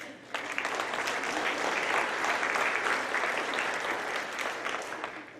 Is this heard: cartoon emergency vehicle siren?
no